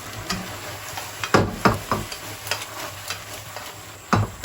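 Vegetables being stirred into a thickened starch sauce in a pan for Northeastern Chinese di san xian, soft bubbling sizzle punctuated by irregular spatula knocks and scrapes against the pan.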